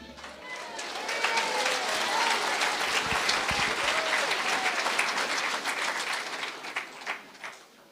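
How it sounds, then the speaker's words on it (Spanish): A congregation at a church service claps and applauds vigorously for several seconds, with some voices mixed in, gradually tapering at the end. "Fuerte aplausos a Cristo."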